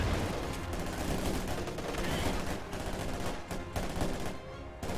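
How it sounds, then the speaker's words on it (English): Dense World War II gunfire in Company of Heroes, with machine-gun bursts and rifle shots overlapping in a continuous loud fusillade for the whole clip. "Taking effective fire!"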